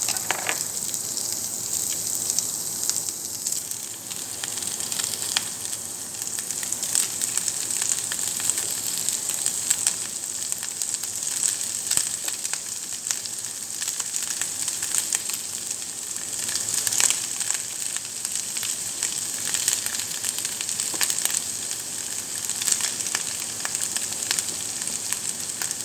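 Rice for soy-sauce fried rice fries in a pan with a steady, dense sizzle that holds evenly throughout, no voices present.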